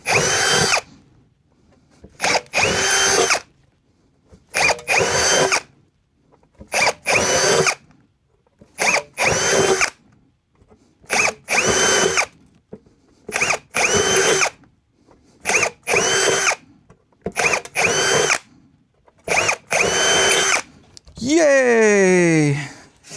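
A power drill boring a series of holes into an amplifier chassis during a guitar amp build, about ten loud bursts of a couple of seconds each separated by short pauses, ending with a rising whine as the bit spins down.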